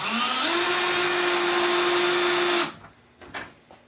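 A power drill drives screws into the double-layer injection-molded plastic of a compost tumbler, one loud steady whine that rises in pitch early on and then cuts off abruptly, leaving faint handling noises.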